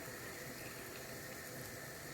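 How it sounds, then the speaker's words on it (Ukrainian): Boiling water pours into a glass jar packed with tomatoes, a steady, close, continuous gushing splash that keeps an even level throughout, with no voices. "Закипіла вода в мене, заливаю кипятком."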